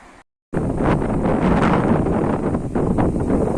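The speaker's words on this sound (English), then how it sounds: "It is super windy today." Strong outdoor wind buffets the microphone in loud, steady roaring gusts after a brief moment of silence.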